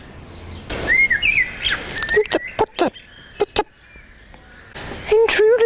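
Birds in a garden chirp and tweet nearby in quick bursts of short calls and whistled notes, over a quiet outdoor background.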